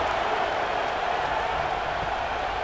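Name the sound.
stadium crowd cheering in College Football 26 video game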